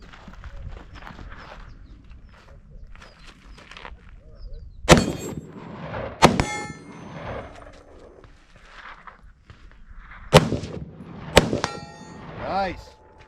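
Bullets ringing off steel targets at a shooting range, several sharp metallic pings spread across the stretch with bursts of gunfire and shuffling movement between them, fairly close and clear.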